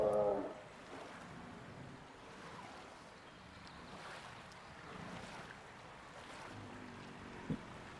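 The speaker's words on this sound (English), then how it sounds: "Somewhere here's a nice waterfall. Probably there. I could hear it." A waterfall in a Jurassic Park-themed theme park game makes a steady, soft rushing wash of water, fairly distant and even throughout, with a brief louder blip at the start.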